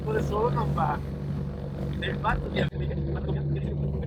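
Twin engines of a Britten-Norman Islander aircraft running on the ground before a Hebridean flight, a steady droning hum throughout with a person talking over the first part.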